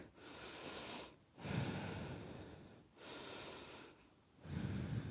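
Heavy breathing from a person recovering after a high-intensity cardio yoga workout, three slow, deep, audible breaths with pauses between, close to the microphone and fairly quiet, without speech.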